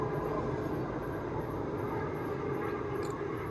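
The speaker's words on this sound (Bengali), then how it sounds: "ওই দেখো নিচে ট্রেনগুলো কত সুন্দর লাগছে।" Trains at Joynagar railway station seen from an overbridge, giving a steady, moderately loud rumble of rail traffic with faint high squeals above it, no talking.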